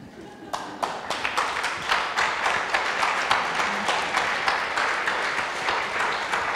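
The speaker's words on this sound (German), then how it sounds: "dass das juristische Panel mit Applaus schließt" Applause from a seated audience closes a legal panel discussion at a conference on access, starting with a few scattered claps and building into steady, dense clapping with sharp individual hand strikes that continue to the end.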